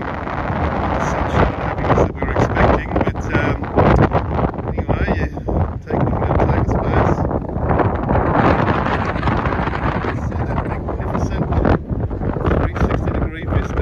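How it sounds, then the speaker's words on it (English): Strong wind buffets a microphone on a cloudy, cold hilltop, a loud continuous roar with gusting swells that never lets up. "It's windy up here."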